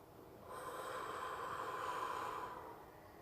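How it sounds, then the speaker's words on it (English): A single slow, deep breath drawn in through the nose, a soft airy rush that swells and fades over a couple of seconds, close and quiet with no talking. "Take a deep breath."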